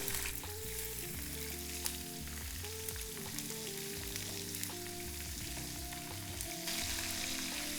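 Chopped chillies hit hot oil tempered with mustard seeds for khaman, giving a loud, continuous close-up sizzle with occasional crackles and no talking.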